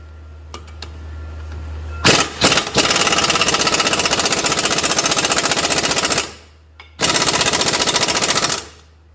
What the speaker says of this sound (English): we're going to take the two 17mm bolts off in the back here